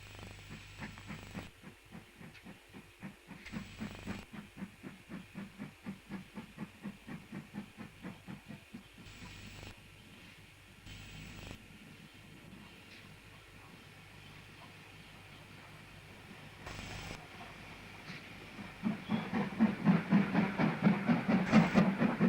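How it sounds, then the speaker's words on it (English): A steam train on the Bluebell Railway approaches with a steady rhythmic chuffing and clickety-clack that stays moderate for a long stretch, then grows louder and nearer toward the end, with hiss and no talking. "a train approaches from the south on a line known then and now as the Bluebell Railway"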